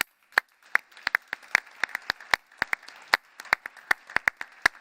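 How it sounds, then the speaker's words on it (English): Applause from the audience at a GovTech best-cases award ceremony: sparse, distinct individual claps scattered irregularly over a light bed of softer clapping, fairly close and crisp, with no voices. "Another applause for all the 57 applications."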